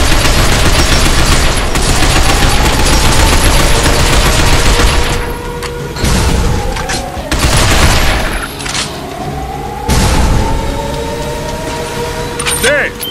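A powerful weapon firing in the Binary Domain video game, a sustained loud roaring barrage broken by short gaps, with sweeping whining tones over it and a voice talking over parts of it.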